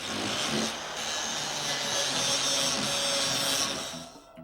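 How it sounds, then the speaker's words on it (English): Welds on a steel firebox for an outdoor fireplace being ground down: a continuous harsh, hissing grind at steady loudness that cuts off just before the end. "let's go ahead and grind our welds"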